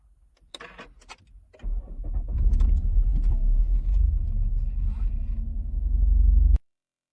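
A car engine starts and settles into a steady idle while warming up in snow, preceded by a few clicks and knocks, then a loud, close, even rumble that cuts off abruptly.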